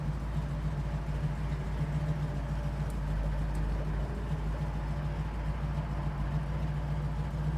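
A 1971 Chevrolet Camaro sits idling at a traffic light, its engine holding a steady, low rumble with a constant hum and no popping from the exhaust, close and continuous throughout.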